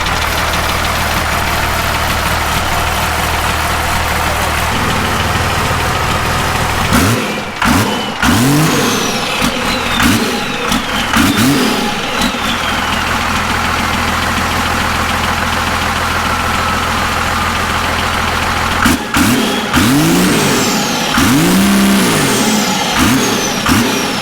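A Cummins diesel engine swapped into a vintage Ford F150 cranks and catches twice, each time revving loudly in rising and falling surges, over constant loud background noise.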